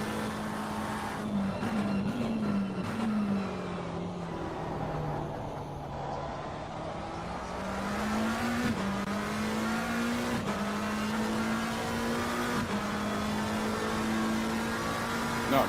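A race car at speed on a track during a hot lap, its engine droning steadily and rising and falling through gear shifts, heard alone and fairly close throughout.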